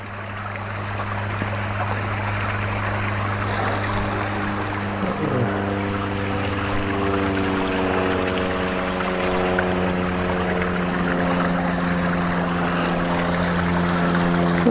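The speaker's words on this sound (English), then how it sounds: "you'll see another waterfall here, and the water going underneath a bridge" A small backyard rock-garden waterfall spills into a stream that runs beneath a rock bridge, giving a steady, close wash of flowing water with a low hum beneath it and no voices.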